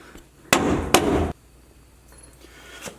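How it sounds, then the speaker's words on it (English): A bolt is slid into a leaf spring shackle on a Jeep Cherokee Chief, giving two sharp metallic knocks close by, followed by quieter scraping and a faint clink at the end. "Take the bolt, slide right in."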